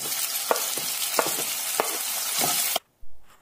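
Finely chopped onions and garlic with bay leaves frying in a pan, a loud, dense close-up sizzle with a few stirring clicks, cutting off abruptly near the end before a brief return.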